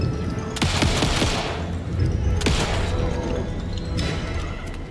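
Rapid bursts of player gunfire in the video game Alan Wake 2, several loud clusters of shots with sharp cracks and echoing impacts, separated by brief pauses.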